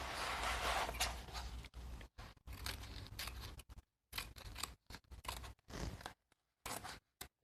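Scissors snip through material for a handmade journal in a series of close, crisp cuts, some quick bursts and some longer slicing strokes separated by short pauses, with no talking.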